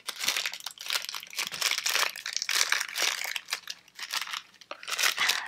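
Thin plastic blind bag packaging gets torn open and crumpled by hand, a close, continuous run of crinkling and crackling bursts with brief pauses.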